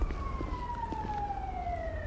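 An ambulance siren in the police game GTA V LSPDFR wails in a long steady sweeping tone that slowly drops in pitch as it draws near, with faint low traffic rumble underneath and no voices over it.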